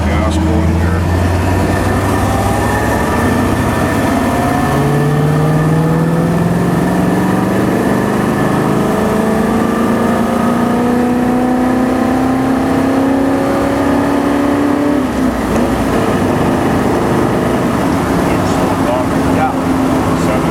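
A 1957 Ford Thunderbird engine revs and accelerates, rising through the gears with a loud, continuous roar heard from inside the car, while people talk over it.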